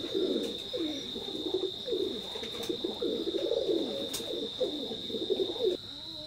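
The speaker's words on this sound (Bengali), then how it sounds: "স্ক্রিনে এখন যে কবুতর জোড়া দেখতে পাচ্ছেন এটাও টেডি 128 ব্লাড লাইনের" Teddy 128 bloodline pigeons coo close by in repeated, rolling low phrases against a steady high-pitched background whine, with no talking.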